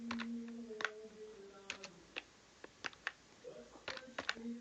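Keys tapped on a computer keyboard while a command is entered on a Windows PC, making sparse, irregular clicks close by against a low hum.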